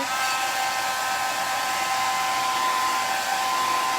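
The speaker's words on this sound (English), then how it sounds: "we're gonna hit it with the blow dryer" A blow dryer drying red paint on an old wooden rolling pin runs continuously at close range, a steady loud whooshing hum with a faint whine, no voices.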